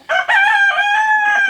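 A rooster on a homestead lets out a single loud, close crow that holds its drawn-out, wavering tone for over a second, with nothing else heard.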